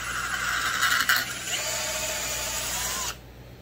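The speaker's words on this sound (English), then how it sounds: "We're gonna take this drill bit" Power drill driving a bit into the case of a Stihl 064 chainsaw, a loud steady whirring grind close by that cuts off abruptly near the end.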